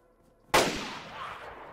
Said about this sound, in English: it does have blaze sounds, which is going to be quite distracting for any players that are coming up against it